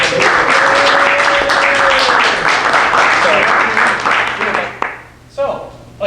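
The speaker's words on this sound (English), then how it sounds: "Why don't we give our judges a round of applause?" A crowd at a startup demo day applauds the judges loudly, with a rising whoop over the clapping; the applause thins out near the end before a voice comes in.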